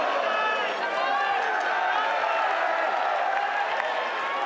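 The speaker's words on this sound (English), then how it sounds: "They've been on their feet. They have not stopped yelling." A wrestling arena crowd at a New Japan Pro-Wrestling event yells and cheers in a steady, dense roar that fills the whole stretch without letup.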